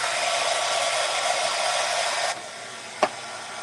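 Hair dryer blowing to dry paint on a blueberry craft, a loud steady close whoosh that drops in strength after about two seconds, followed by a brief click, with no talking.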